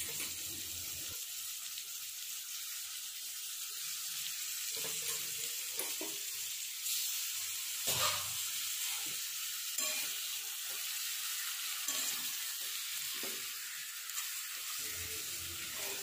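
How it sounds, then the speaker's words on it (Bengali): Fish frying in a kadai: steady close sizzling and spitting oil throughout, with a few soft scrapes and clinks of a spatula turning the pieces, no talk. "এরপরে আমি মাছগুলো দিয়ে দিলাম। এর ভেতরেই মাছটাকে কষাতে কষাতে হালকা ভাজাও হয়ে যাবে।"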